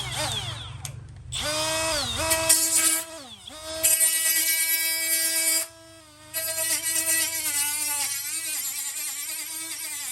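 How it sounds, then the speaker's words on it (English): A newly bought angle die grinder cleans up metal in a home welding setup, its high-pitched whine rising and dipping as the tool loads and unloads against the workpiece, with a brief stop before spinning up again, close and loud. "I also finally bought the angle die grinder."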